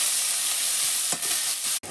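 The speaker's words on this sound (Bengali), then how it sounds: "এই যে দিয়ে দেবো শুকনো লঙ্কা আর পেঁয়াজ। এটা ভালো করে ভেজে নেব, ভালো করে একটু মচমচা করে ভেজে নেব।" Dried red chillies and onion frying in hot oil, a loud steady sizzle throughout with a few stirring scrapes and a brief break near the end.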